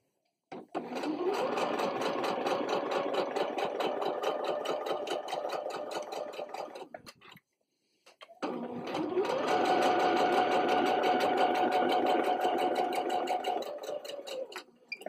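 A sewing machine runs steadily while stitching a seam on a wet bag made for cloth pads, two long continuous runs separated by a brief pause, close and loud with no talking.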